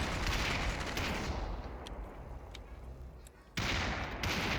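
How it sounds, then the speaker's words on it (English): Gunfire in a shooter video game, with a dense stream of rapid, crackling shots that eases off briefly before returning in a loud burst, and no talk over it. "that was a headshot from Chabe on Isaac"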